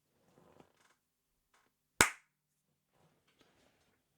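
A single sharp hand clap struck for audio sync, loud and isolated, with faint murmurs and small rustles before and after it.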